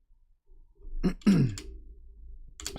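A man clears his throat and gives a short cough after eating fatty food, two brief throaty bursts close to the mic in a quiet room.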